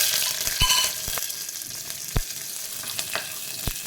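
Whole garam masala, bay leaf, chilli and a pinch of cumin frying in hot oil: a steady high sizzle with a few sharp pops and utensil clicks scattered through, close and alone.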